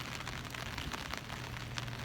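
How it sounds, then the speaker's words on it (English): Heavy rain falls steadily in a city during the 3/11 earthquake aftermath, a dense continuous hiss close by with no talk over it. "It's raining a lot."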